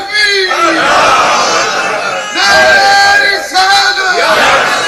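A large crowd chanting a religious slogan in loud, rhythmic bursts of massed voices, with a short pause between surges.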